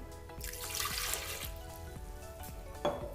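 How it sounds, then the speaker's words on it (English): Water is added to a gado-gado sauce, a faint liquid trickle with a few soft clicks and small splashes, quiet and close against light background hum. "So for the Gado-Gado sauce, what we're gonna add is some water."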